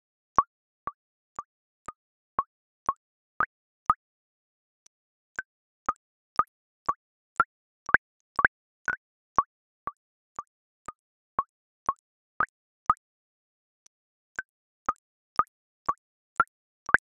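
Computer-simulated water bubble sounds, a sparse, regular series of short, clean plops alone against silence, with a few brief pauses between runs.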